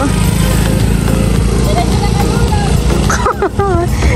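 A motorcycle engine idles and revs steadily under a voice speaking over it, loud and close, with other voices chiming in near the end.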